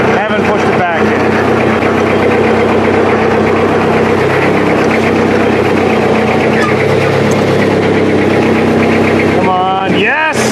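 Engine of a shop tug runs steadily and loud throughout while pushing a Chevy back inside a shop, with a low rumbling drone and mechanical rattle, ending with a short rising whine.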